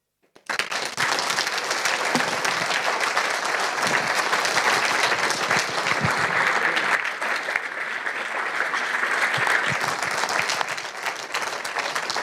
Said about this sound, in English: Keep clapping for Sam